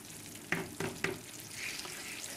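Flour being stirred into a sizzling brown roux in a pan for Cajun/Creole cooking: a soft frying hiss with three distinct spoon scrapes or taps in the first half, then a steady sizzle.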